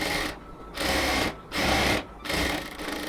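A sewing machine runs three close, loud bursts of stitching on a cotton palazzo seam, each a steady whirring run separated by brief pauses.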